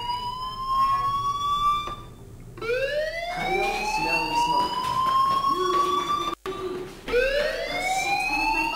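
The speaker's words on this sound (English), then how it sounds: "do you hear that fire alarm?" A fire alarm wails in the video game Life Is Strange, a loud siren-like tone rising and falling in repeated sweeps, cutting out briefly before starting again.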